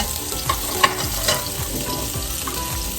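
Chili and garlic stir-frying in a tablespoon of hot oil: a dense, continuous close sizzle with scattered scrapes and taps as the pan is stirred, and no voices.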